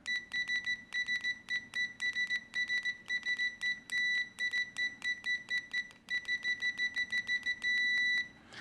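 A cheap multimeter's continuity tester, probed with inexpensive test leads, gives a rapid series of short, bright electronic beeps, mostly stuttering chirps with a few longer sustained tones, close and clear with no talking.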